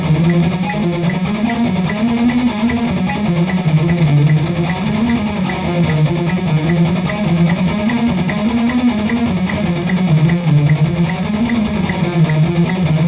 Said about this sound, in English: so now I'm going to be banging on each note 2 times in 16ths.